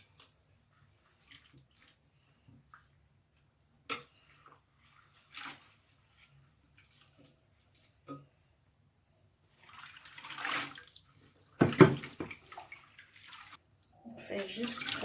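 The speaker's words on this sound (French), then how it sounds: "Donc maintenant je vais rincer, je vais enlever ça dans l'eau." A wig is rinsed in water by hand, with sparse quiet splashes and drips early on, then fuller sloshing and swishing bursts near the end, close and moderately loud.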